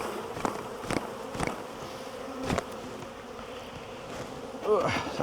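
Honey bees just shaken off a brood frame buzz around close by, a dense droning hum with individual bees swooping past the microphone in louder passes.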